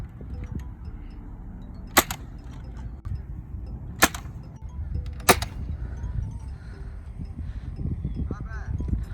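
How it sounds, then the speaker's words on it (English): Half darts launched at a 0-degree angle for an EDD project, giving three sharp, separate launch snaps spread across the clip over steady background noise and some voices. "now we're gonna do the half dart shots"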